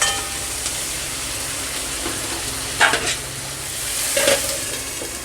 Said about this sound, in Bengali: আমার পেঁয়াজটা প্রায় ভাজা ভাজা হয়ে গেছে